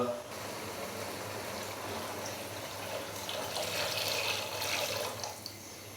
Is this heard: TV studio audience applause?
no